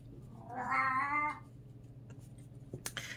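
A single drawn-out cat meow with strong harmonics, close and fairly loud, followed by faint scattered clicks and light handling noise, with no one speaking.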